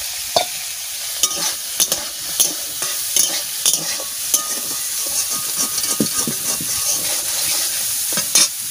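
Soybean chunks stir-fried in a pan give a steady, close sizzle broken by repeated scraping strokes of a spatula against the pan. No talking.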